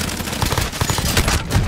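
Bullfrog submachine gun in Warzone firing a fast, continuous burst of close, loud shots in a tight rapid rhythm.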